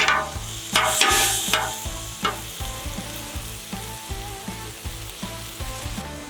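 Strips of steak for Philly cheesesteak sandwiches sizzle in a pan, with loud stirring scrapes near the start and a steady hiss throughout, over a rhythmic low backing tone.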